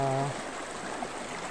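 A creek flows as a steady, soft rushing and trickling, heard after a brief opening hum, with a quiet outdoor setting around it.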